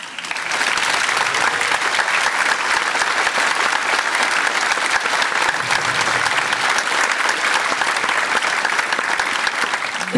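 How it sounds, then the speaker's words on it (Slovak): Loud, sustained applause from a large audience fills the hall after a children's Christmas show with ballet, street dance, gymnastics and music acts, the clapping steady and dense from start to finish. "Takže naozaj veľký potlesk."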